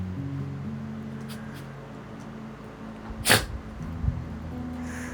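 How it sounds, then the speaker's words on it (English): A single sharp dog sneeze stands out over a low steady hum, followed moments later by a softer snort. "that was my dog to sneeze then"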